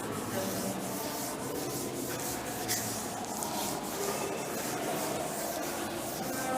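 Steady dry rubbing of a duster erasing a classroom board, continuous scrubbing strokes heard up close and fairly loud, with no talking over it.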